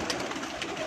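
Pigeons on a rooftop give a brief, soft coo over a steady wash of outdoor noise.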